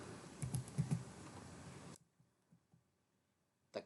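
Close fingers type quickly on a computer keyboard, a dense burst of clicks that stops abruptly, followed by a few faint taps and one final key press.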